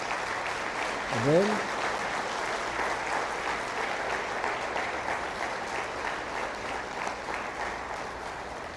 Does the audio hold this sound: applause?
yes